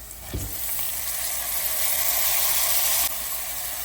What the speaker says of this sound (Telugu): ఉల్లిపాయ ముక్కలు వేగిపోయాయి. ఇప్పుడు టమాటా ముక్కలు వేస్తున్నాం.